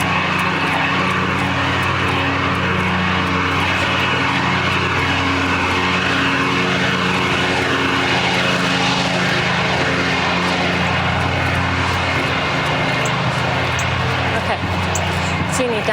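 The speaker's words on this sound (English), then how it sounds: "I'm going past some kind of tractor thing, so I'm just going to let that pass" A tractor passing on a road during an outdoor run, a loud continuous engine drone with steady rumble lasting throughout, close by.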